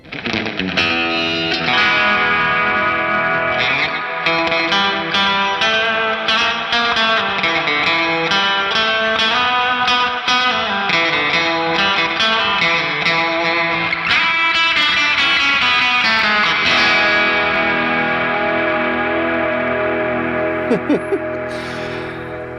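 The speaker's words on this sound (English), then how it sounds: "EQ pedal is, you know, it's one of those pedals that people are always looking for, like a distortion or a delay" Electric guitar shaped through an EQ pedal, played continuously with chords and single notes, loud and sustained with effects coloring the tone, with a brief pause and some quick picked notes near the end.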